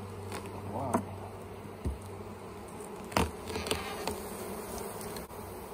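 Honey bees buzz around an opened hive on a hot October day in South Alabama, a constant close hum with individual bees zipping past the microphone and a few soft knocks from the hive work.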